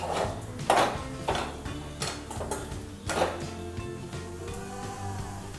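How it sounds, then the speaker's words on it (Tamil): A spoon scrapes and clinks against a pan while prawn fried rice is mixed with masala, several sharp metallic knocks at an uneven pace over a low kitchen hum, close by and moderately loud. "நம்ம வந்து சாதத்தை நல்லா மிக்ஸ் பண்ணியாச்சு"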